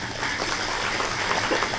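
Audience applause at a public gathering in Central Java, a steady dense wash of clapping that holds at an even, fairly loud level throughout, with no voices above it.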